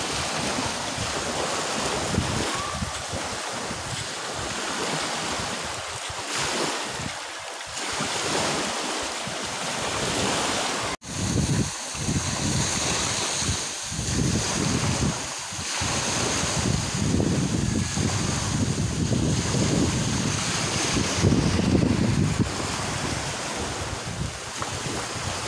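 Ocean surf rolling onto Magbagacay beach in Saint Bernard, Southern Leyte at high tide, a steady wash of breaking waves with wind buffeting the microphone throughout.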